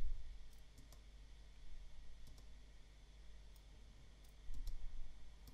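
Computer mouse clicks, a few faint, sharp isolated clicks over a quiet background hum, spaced irregularly with no talking.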